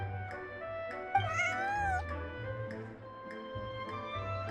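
A cat in the video game Genshin Impact gives one clear, rising and falling meow over a soft ticking background, with no talk.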